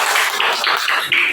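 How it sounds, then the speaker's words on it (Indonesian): A classroom of students clapping together in a burst of loud, dense applause that runs steadily without a break, close and lively. "Kita kasih tepuk tangan."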